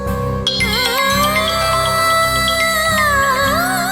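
A mobile phone plays a loud, steady electronic ringtone melody with layered tones that ring continuously without pause; the incoming call is from a car showroom executive.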